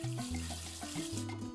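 Water running off uncoated car wheels, a steady, close splashing flow like a running tap, with no talk over it.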